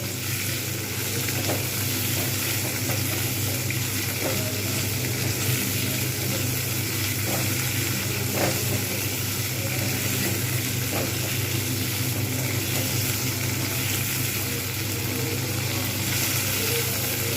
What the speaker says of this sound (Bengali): সেরকম করে ভালো করে ভেজে নেবো